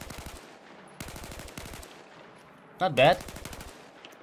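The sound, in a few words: M16A4 burst fire in video game Battlefield 4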